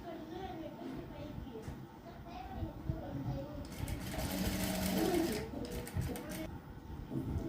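A sewing machine stitches the joint of cross-cut blouse neck pieces with a quick, steady mechanical whir that speeds up midway, while someone talks over it.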